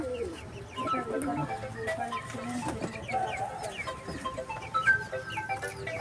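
Soft cooing and clucking of Kaldoma pigeons in a busy coop, layered calls overlapping with rustling and scattered chirps close by.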